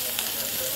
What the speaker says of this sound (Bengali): সব কিছু একসাথে সুন্দর করে কষাবো।